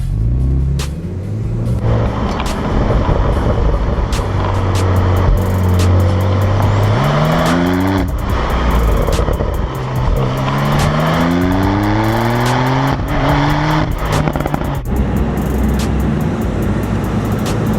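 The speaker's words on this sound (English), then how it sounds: "Let's see if we can hear it here. If the downshift burble is crazy" Porsche 911 Cabriolet (911S) driven with the top down, its loud exhaust rising through gears then burbling and crackling on downshifts, continuous and close with no talk.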